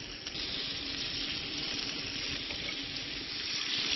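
Butter sizzles in a hot pan beside browning Bresse chicken, a steady, close, even crackle with no talking over it.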